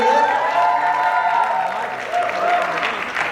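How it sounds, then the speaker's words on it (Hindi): A studio audience on a Colors TV couples' comedy show applauds and cheers for the new pair Hina and Rocky, a steady wash of clapping mixed with tonal music or voice running through it. "जोरदार तालियां हो जाए हीना और रॉकी के लिए"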